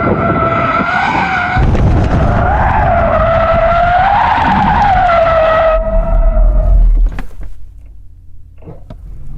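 Porsche Taycan GTS tyres skidding hard through a corner on a track, a loud sustained squeal wavering in pitch for several seconds before cutting out.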